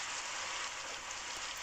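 Steady rain falling in an animated Hindi children's story, a continuous broadband hiss of drops on surfaces that stays even and fairly quiet throughout, with no voices.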